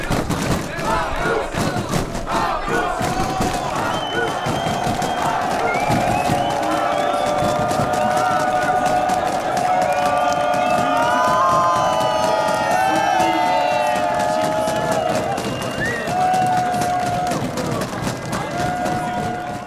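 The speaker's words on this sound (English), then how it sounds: "That is the crowd for Magnus Cort Nielsen, polka dot jersey, day two of the Tour de France." A roadside crowd at day two of the Tour de France roars and shouts for a rider in the polka dot jersey, a dense sustained cheer with whistles and yells heard up close from a passing motorbike.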